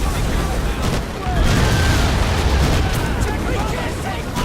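Dense, continuous gunfire and booming blasts fill a beach battle in the video game Medal of Honor Pacific Assault, with voices shouting in the background.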